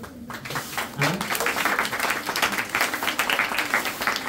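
An audience claps for a paddy planting demonstrator at a Lions Club community event, a steady, dense round of applause that holds evenly throughout with voices mixed in underneath.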